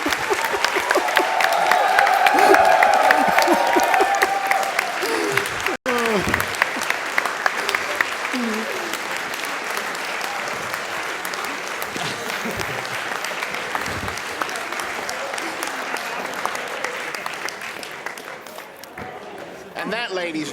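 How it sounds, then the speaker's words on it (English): A large event audience applauds in a standing ovation, dense sustained clapping and crowd noise that swells, then continues steadily, with voices talking over it. "You're gonna have standing ovation."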